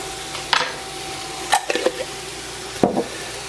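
Ghee sizzles in a hot pan under a steady low hiss, broken by a few louder scraping stirs and brief clinks of a utensil.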